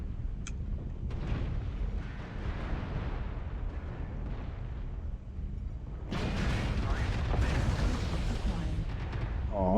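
Heavy weapon fire and explosions from mech combat in MechWarrior Online, a continuous dense roar of booms and blasts that swells louder in the second half.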